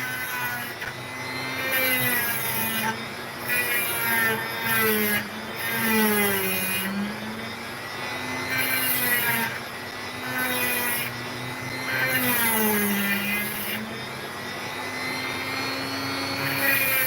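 An opal's back is carved and sanded on a small motorized tool, its whine rising and falling in pitch while grinding rasps come in repeated bursts, loud and close with no talking.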